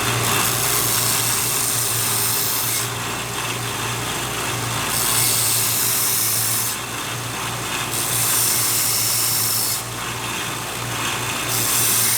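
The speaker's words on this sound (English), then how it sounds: "I still got to come in and deburr, head to the grinder real quick." A bench grinder deburrs a freshly machined part in a shop, its steady whine running throughout with three louder bursts of grinding contact at intervals, close and moderately loud.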